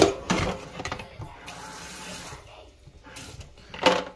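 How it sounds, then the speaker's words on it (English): Tap water pours into a pot on a kitchen stove, a steady splashing rush that swells at the start and again near the end, close and fairly loud. "And I'm just gonna pour just a tiny bit of water."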